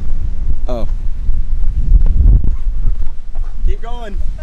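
Gusty wind buffets the microphone on a golf course with a steady low rumble, while voices talk and a couple of goose-like honks cut through.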